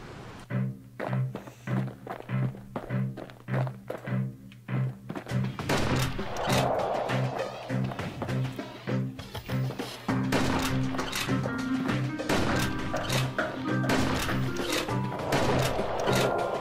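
Repeated sharp musket cracks in the video game Bastion, a sparse string of single shots at first, then denser firing over a busy, steady game soundscape.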